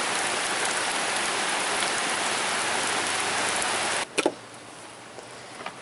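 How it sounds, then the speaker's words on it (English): Steady rain hammers down loud and close as a dense, even hiss, then cuts off abruptly, leaving a few scattered drips and taps in near quiet. "Okay, the rain has now stopped."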